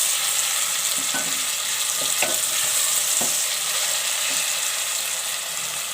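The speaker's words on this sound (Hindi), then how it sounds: "प्याज के साथ लहसुन को ज़रा सा हम भूनेंगे।" Steady sizzling of onion and garlic frying in a pan, with a few scrapes and taps of a spoon stirring, close and continuous, no one speaking.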